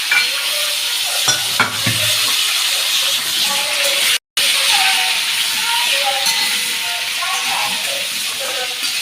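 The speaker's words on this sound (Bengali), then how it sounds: "আবার কড়াই বসিয়ে দিয়েছি, সরষের তেল দিয়ে দিলাম পরিমাণ মতো। এবার আলু আর এঁচোড়টা ভেজে নেব।" Potatoes and green jackfruit fry in mustard oil in a kadai, giving a steady close sizzle and hiss with occasional stirring scrapes, one very brief dropout midway.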